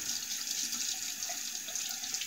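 Running water rinses a vintage Racine electric safety razor under a tap, a steady close hiss of flowing water at moderate level with no talk.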